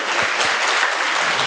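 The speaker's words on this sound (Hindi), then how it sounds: "एक बार जोरदार तालियों से अपना आनंद व्यक्त करेंगे" An indoor audience at a spiritual gathering breaks into loud, sustained clapping, a dense even wash of many hands with a few stronger claps standing out near the start.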